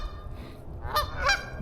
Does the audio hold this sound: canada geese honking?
yes